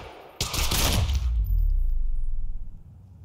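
A loud, close burst of rapid gunfire in the Quantum Break video game, a dense volley of shots lasting about two seconds before fading, with no talk.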